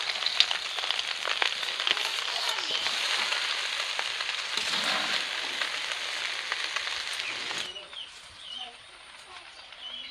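Fried rice with vegetables and powdered sugar sizzles loudly in a pan, a dense crackling hiss with scraping stirs that thins out near the end.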